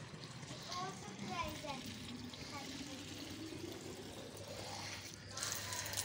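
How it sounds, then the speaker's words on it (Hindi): Water is poured out for plants and birds on a hot day, a continuous trickling splash heard close, with faint voices and background noise beneath. "तब भी हम पौधों को पानी देते हैं और परिंदों के लिए पानी डालते हैं।"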